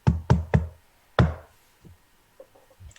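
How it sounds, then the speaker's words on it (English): Four sharp knocks on a door, three in quick succession and a fourth after a short pause, close and fairly loud, followed by faint shuffling. "and then I'll knock on the door"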